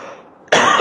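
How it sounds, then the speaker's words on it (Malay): A single sharp, loud cough from a man suffering a lingering cough, bursting abruptly after a brief quiet moment. "Amba minta maaf pertamanya batuk tak sial lagi."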